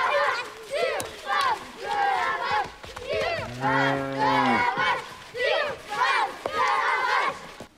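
Cows low one after another in a series of loud, drawn-out moos at a cattle sale where four cows are put up for auction, with overlapping calls and some crowd murmur around them.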